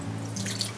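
Water runs from a kitchen tap into a container for a swab test, a short steady trickle with light dripping and splashing, close and moderately loud, with no voices.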